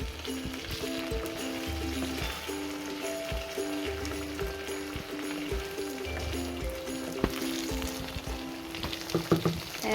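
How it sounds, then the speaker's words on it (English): Gnocchi fry in brown butter in a very hot pan on an induction hob, giving a steady close sizzle with a faint hum running underneath. "I leave them in the pan on a high heat to crispen up a little bit from the outside on both sides"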